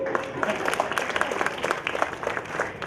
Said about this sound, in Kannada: ಇನ್ಯಾರ ಹೇಳಿ ಚಪ್ಪಾಳೆ ತಟ್ಟಿಸ್ಕೋಬಹುದು